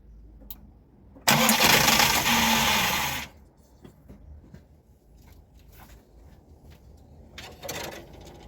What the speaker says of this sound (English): The car started and I switched it off.